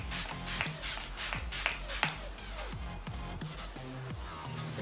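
Six quick hissing bursts from a makeup setting spray bottle in a steady rhythm, followed by soft rustling and faint tones.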